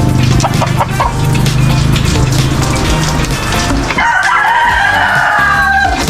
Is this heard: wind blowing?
no